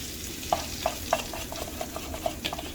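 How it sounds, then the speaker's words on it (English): Green-dyed eggs hitting a hot frying pan, a soft sizzle under a few light clicks and taps of a utensil, close and moderate. "Add your eggs to the pan. Your green eggs."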